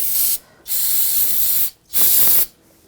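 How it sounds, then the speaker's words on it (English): Brake parts cleaner sprayed from an aerosol can onto a BMW 328i front brake, three loud hissing bursts, the first two long and the last shorter, with brief silent gaps between them. "Take a little brake parts cleaner."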